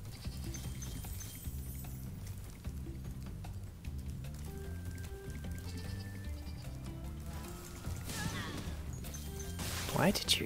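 Sheep bleating in a video game over a quiet, steady music bed, several wavering tonal bleats scattered through, ending in a louder burst of crashing and squealing effects.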